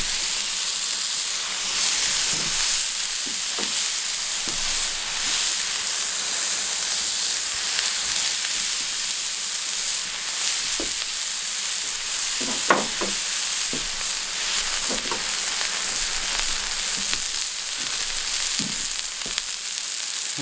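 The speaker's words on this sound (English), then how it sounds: "it's really nice and hot, this plancha, so these aren't going to take too long to cook" Lamb shawarma kebab burgers sizzle on a very hot outdoor BBQ plancha, a steady bright frying hiss running throughout with occasional soft pops and scrapes, close and continuous.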